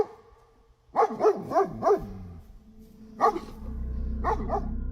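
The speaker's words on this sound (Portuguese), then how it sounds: "o cachorro começou a latir e avançar na direção do homem" A dog gives a quick run of four close barks, then a single bark after a pause and two more, with a low rumbling noise building underneath toward the end.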